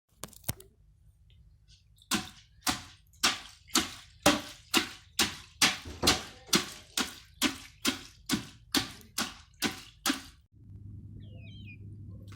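Tiger nuts soaked in water are pounded in a mortar. About sixteen close, heavy, evenly spaced thuds fall roughly every half second, then stop, leaving a low steady hum.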